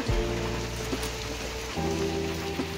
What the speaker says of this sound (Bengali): এদিক দিয়ে দেখাই বৃষ্টি হচ্ছে, সব এখানে সব চারিদিক জোর হয়ে গেছে।